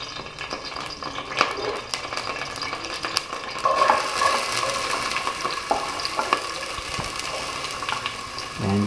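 Onion, ginger and garlic fry in hot oil with a continuous crackling sizzle, broken by occasional stirring and scraping of a utensil against the pan, all heard close up.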